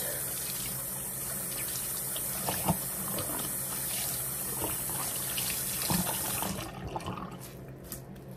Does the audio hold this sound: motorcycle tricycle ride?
no